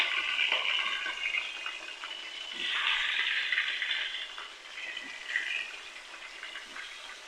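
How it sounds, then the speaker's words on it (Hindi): Steady hiss and crackle of chicken frying in hot oil with garlic and ginger, with occasional stirring scrapes and swells of sizzling, no talking. "अब मैं यहाँ ऑयल में मैं थोड़ा ये चिकन को जो है ये लहसुन अदरक में डालकर लाल कर लेती हूँ, भून लेती हूँ"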